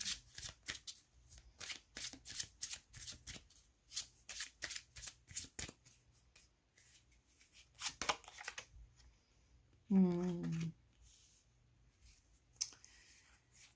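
Tarot cards being shuffled by hand, a steady series of crisp riffling flutters close up, then a short pause with a brief tonal squeak and a few more soft card sounds.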